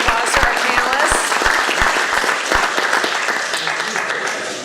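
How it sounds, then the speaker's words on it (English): Applause rings out for panelists at a chamber of commerce meeting, a steady round of clapping from a modest crowd that lasts several seconds and slowly fades. "Everybody give them a round of applause to our panelists."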